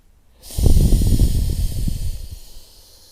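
A long, steady exhale through the mouth during a breathing exercise in a chest and pelvis mobility workout, a breathy rush starting about half a second in and fading out over roughly two seconds, close and alone.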